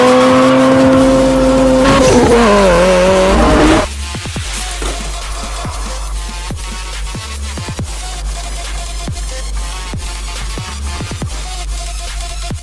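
Fast and Furious Hot Wheels die-cast toy cars, including a Ford Escort RS1600 and a 1970 Dodge Charger RT, race down a plastic track, a loud rolling whir followed by a run of sharp clicking rattles.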